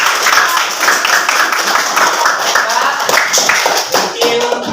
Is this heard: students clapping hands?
yes